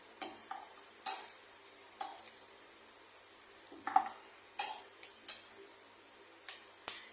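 Ginger and garlic sauté in a pan for jackfruit pickle, with a faint sizzle under sharp utensil scrapes and taps that come at irregular intervals about once a second, quiet and near, with no talking.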